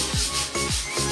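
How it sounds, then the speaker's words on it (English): Scrubbing thick calcium buildup off the glass of a 50-gallon aquarium tank, close and fairly loud, three rhythmic rubbing strokes with no talking. "The calcium buildup on this side is a bit thick and I have to scrub it more."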